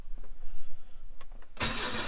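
A car engine cranks and catches after the choke is pulled, bursting into a loud roar after a quiet, rumbling moment at an All Japan Day Classic car event.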